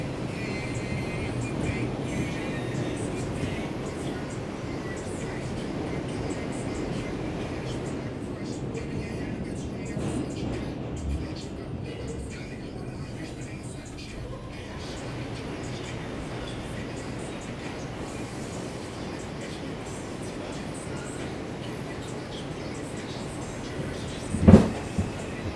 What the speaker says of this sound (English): Right now we're in a subway tunnel underneath the Harlem River